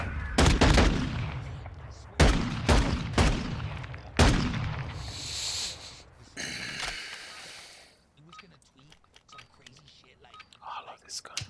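Gunfire in Call of Duty: several loud, close shots and short bursts crack out in the first half, followed by quieter game sounds and soft breathy vocal noises.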